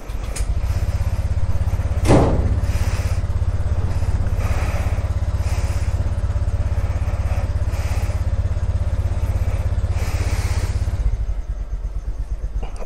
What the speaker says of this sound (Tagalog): Pinapainit ko lang yung makina.